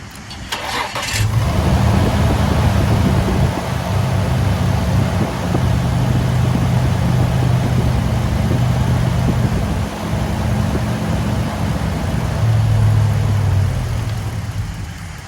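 Isuzu engine idling with a steady, loud mid-pitched drone after a sharp start, then faltering and fading as fuel rail pressure drops, heard close up with no talk.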